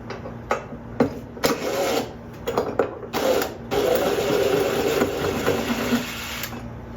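A screwdriver drives flathead screws into a ceiling fan mounting bracket, giving a close, steady ratcheting whir in several runs broken by short pauses, with metallic clicks between them.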